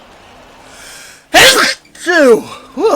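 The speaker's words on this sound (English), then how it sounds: "That was a sneeze." One sharp, loud sneeze erupts close to the mic, followed by a couple of breathy, voiced exhales.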